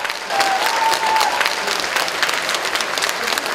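A crowd at a ceremony applauds warmly for a head doctor. The clapping is loud and dense, swelling quickly and holding steady throughout.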